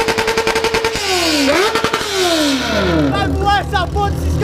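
A Yamaha XJ6N motorcycle exhaust revs hard in sharp rising and falling bursts with crackling pops, loud and close, while people talk over it.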